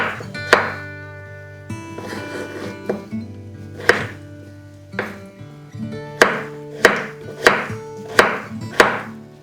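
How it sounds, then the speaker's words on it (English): A knife chops potatoes into cubes on a cutting board in a steady series of sharp, close thunks, bunching into quicker strokes toward the end, over a low kitchen hum. "I'm gonna chop them in some cubes, not too big,"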